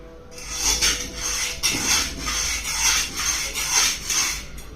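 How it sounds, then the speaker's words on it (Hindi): A very hard knife blade is stroked across the rough side of a whetstone, giving about six rhythmic rasping scrapes close by with short gaps between them, and no voices. "अपने स्टोन रफ साइड पे थोड़ा सा स्ट्रोक लगा लूंगा, जिससे कि हमारी नाइफ यहां से ग्राइंड हो जाए"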